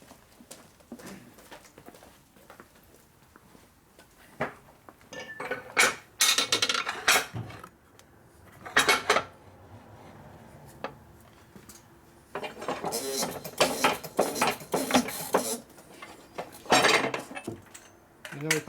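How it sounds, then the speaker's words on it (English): Metal tool clinks and ratcheting clatter while torquing down a bolt on a 1972 Harley-Davidson FLH 98ci shovelhead stroker motor during a rebuild, in intermittent bursts with quiet gaps between. "now you're going to go torque this down."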